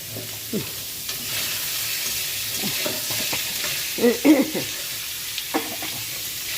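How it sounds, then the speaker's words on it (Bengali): Potatoes are stirred and lightly fried in a pan for paneer curry, making a soft steady sizzle with the spatula scraping and knocking against the metal pan in irregular strokes. "আলুগুলো একটু হালকা করে হালকা করে ভেজে নেব"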